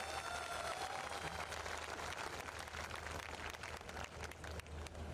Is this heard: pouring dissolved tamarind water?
no